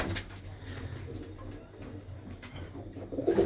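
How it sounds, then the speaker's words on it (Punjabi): Large red Cheena pigeons of a flying breed coo softly and steadily nearby against a noisy background, growing a little louder at the end. "ਇਹ ਹੈ ਬਾਈ ਹੁਣਾਂ ਦੇ ਵੱਡੇ ਕਬੂਤਰ"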